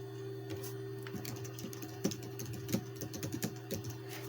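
Typing on the keyboard of an old Alienware mALX-R1 computer: a close run of quick, irregular key clicks and taps over a low steady electrical hum, with no talk.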